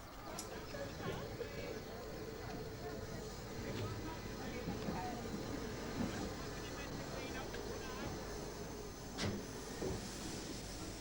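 A steam train prepares to depart a busy heritage railway station, with steady hiss and rail noise under a bustling crowd of passengers, occasional sharp whistles or clanks cutting through.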